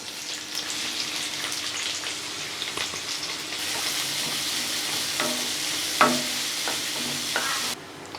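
Finely chopped large onion stirring and sizzling in hot oil with green chillies in a pan, a steady frying hiss with scraping stir strokes and a brief louder clatter near the end, no talking.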